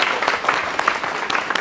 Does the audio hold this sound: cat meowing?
no